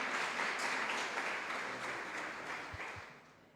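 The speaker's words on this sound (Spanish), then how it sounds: "Un fuerte aplauso para el Padre Héctor" An audience at a catechesis conference applauds in a steady wash of clapping that gradually fades toward the end.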